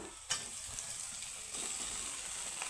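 Ginger frying in oil in a pan, a steady soft sizzle with a brief clatter near the start, quiet and close with no voices.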